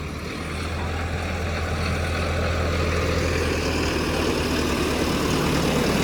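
A tractor's heavy diesel engine idles steadily with a deep, continuous low rumble, loud and close, with no voices over it.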